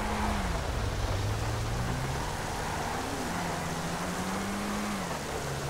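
A Volkswagen Fusca Turbo engine in the game GTA V hums and rises in pitch as it accelerates through the gears, steady and continuous over a faint background hiss.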